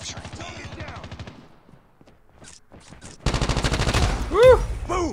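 Bursts of automatic gunfire rattle in Call of Duty Mobile: a rapid stuttering volley, a near-silent gap with a few scattered shots, then a louder, dense fusillade with game voices mixed in.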